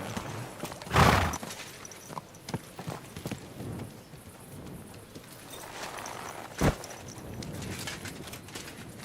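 Horse hooves clopping on the ground in Kingdom Come: Deliverance II, a few irregular thuds with one louder hit early and another later, over a busy ambient game background with no speech.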